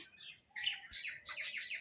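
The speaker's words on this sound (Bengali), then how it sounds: "দেখো উপরে কত পাখি আছে" Several birds chirp and twitter in quick bursts at a feeding spot in a bamboo grove, bright overlapping calls at moderate distance with no talk.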